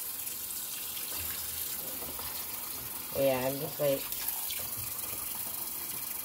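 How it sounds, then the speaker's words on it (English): A kitchen tap runs steadily into a sink to soak dishes, a constant rushing hiss that fills the whole clip. A person speaks briefly over it midway. "I'm gonna turn the water on for a minute because I'm soaking all the dishes that I use."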